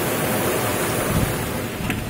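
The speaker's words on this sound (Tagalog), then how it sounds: "Ang lakas ng ulan at hangin pa, mahangin." Heavy rain driven by strong wind during a storm on Bohol, a dense, loud, unbroken hiss of downpour with gusty roar underneath.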